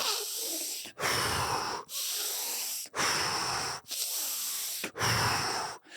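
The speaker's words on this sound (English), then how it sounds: "So it's fast breathing." Rapid, forceful breaths pushed through the nose in a fast breathing exercise, six long hissing pulses in a steady rhythm, each separated by a brief pause, close and loud with no talking.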